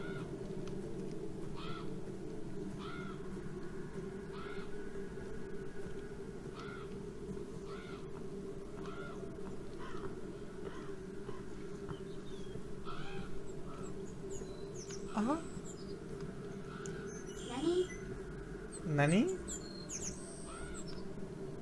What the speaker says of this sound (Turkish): Karga mı o nedir?